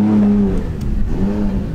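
Freshly tuned car with a new turbo on a test run, its engine holding a steady loud drone that drops away briefly before rising again, heard close.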